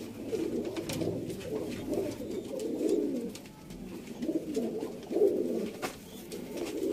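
Rampuri pigeons coo in soft, repeated throaty bursts, several birds close by in a rolling rhythm with brief pauses between calls.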